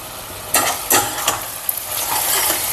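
Masala paste for prawn curry fries loudly in a pan, a dense close sizzle broken by several sharp scraping stirs near the start, with no one talking.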